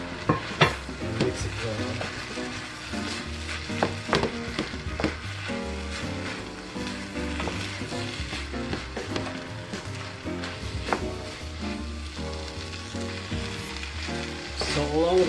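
Chinese fried rice with spring onions and eggs being stir-fried, with a steady sizzle and repeated scraping and tossing against the pan, loud and continuous, with a short spoken phrase over it.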